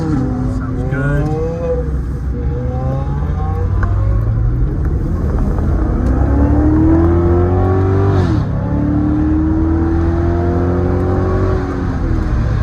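A Ferrari supercar revs and pulls away at a Kent Island cars-and-coffee cruise, a loud rising engine note climbing through gears, with voices talking over it throughout.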